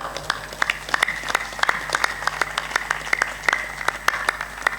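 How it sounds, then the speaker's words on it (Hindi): Audience clapping at a Hindi religious discourse by a saint, a steady scattered patter of many hands with sharp individual claps standing out, moderately loud and continuous. "तुम ताली तो बजाओ।"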